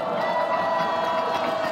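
A crowd at a Korean youth political rally applauds and cheers, a loud, continuous roar of clapping and voices with a steady tonal hum running underneath.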